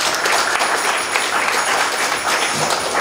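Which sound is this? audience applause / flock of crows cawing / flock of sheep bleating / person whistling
audience applause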